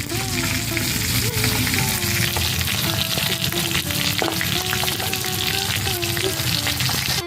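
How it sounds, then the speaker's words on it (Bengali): Loud, continuous sizzling of rohu fish frying in hot oil, with occasional stirring scrapes and faint background tones. "মাছগুলো লাল লাল করে আমি একটু ভেজে নিয়েছি"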